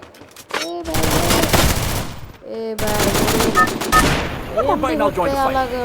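Rapid bursts of video game gunfire crackle through most of the stretch, loud and dense with short gaps, while a voice talks over the shooting.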